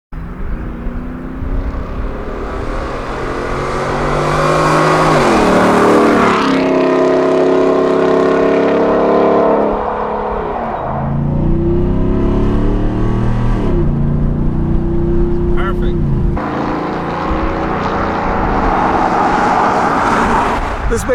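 A Ford F-150 pickup fitted with a Borla ATAK exhaust rumbles loudly at normal cruising speed, the deep exhaust note swelling and falling with throttle changes and gear shifts, passing close by.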